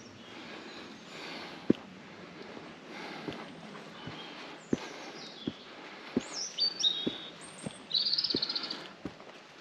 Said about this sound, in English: And accompanying bird song too.